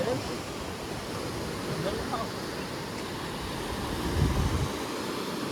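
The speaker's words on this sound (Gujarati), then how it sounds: "અહીંથી દરિયો તો એક નંબર છે, અને અવાજ પણ બહુ ગજબ આવે છે." Sea surf rolling onto the shore below a tall cliff, a steady broadband wash of waves at moderate loudness with a slightly stronger surge near the end.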